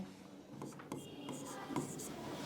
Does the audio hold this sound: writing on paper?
yes